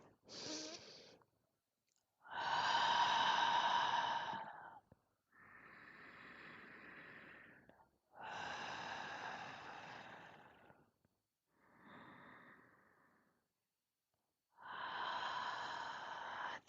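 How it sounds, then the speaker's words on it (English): Slow deep breaths taken during a guided meditation, long drawn inhales and sighing exhales alternating with silent pauses, close to the microphone and fairly quiet. "let's close this amazing, amazing transmission by taking 3 deep breaths with me"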